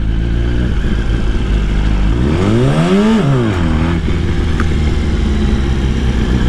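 Motorcycle engine during a rolling burnout with the clutch dumped: a loud, close, continuous roar that revs up in a sharp pitch sweep, then drops back to a steady, rough drone.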